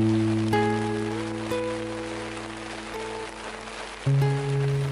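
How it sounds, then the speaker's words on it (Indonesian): Rain falls steadily on a surface during a mountain hike on Gunung Slamet, a soft continuous patter beneath prominent sustained tonal hum, with no voices. "Ini pas hujan juga, kita sambil nunggu hujannya reda."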